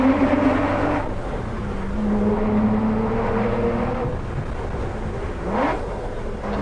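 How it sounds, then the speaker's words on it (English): A 2008 Aston Martin DBS with a manual 6-litre V12 revs up and down inside the cabin while driving, with rising and falling engine tones and a sharp climb near the end. "is the sound of an Aston Martin 6-litre V12."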